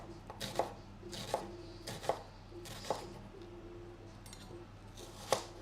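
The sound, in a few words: chopping onions for French onion soup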